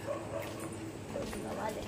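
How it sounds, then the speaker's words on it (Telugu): Several dogs bark behind passersby, giving repeated sharp yelps and woofs at moderate distance in an uneven rhythm over a low background murmur. "కుక్కలు కూడా అరుస్తున్నాయి మమ్మల్ని చూసి వెనకమాల."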